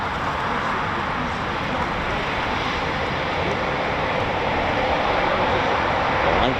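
Eurofighter Typhoon FGR4 jet engines roaring at an RAF station, a dense, powerful, continuous thundering roar, loud and close, swelling slightly toward the end.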